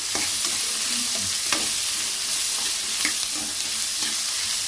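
Onion and garlic sizzle steadily in hot oil, frying as a tempering for horse gram sambar, with occasional scrapes of a stirring spoon cutting through the constant close crackle; no voices.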